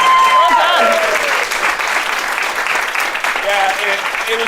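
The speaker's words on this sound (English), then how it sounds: "I think what we need is a round of applause for Kevin's Vince McMahon impression." A studio audience breaks into sustained applause, with strong clapping throughout and voices talking and cheering over it.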